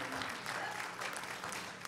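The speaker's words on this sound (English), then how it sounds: "give the Lord a hand clap this morning" Church congregation clapping hands together during a Sunday morning service, a steady wash of applause lasting a couple of seconds with murmured voices mixed in.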